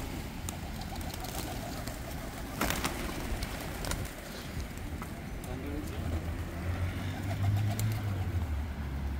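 Doves and a dove–pigeon hybrid cooing among wild pigeons outdoors, soft repeated low coos at moderate distance under ongoing ambient noise, with people talking nearby and a passing car.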